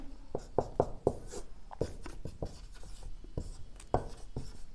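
Handwriting during a chemistry lesson on the metal reactivity series: a quick, irregular run of scratchy strokes and sharp taps, close and steady, with no talk.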